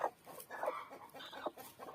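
A hen clucking close by, a run of short soft clucks in an uneven rhythm with small gaps between them.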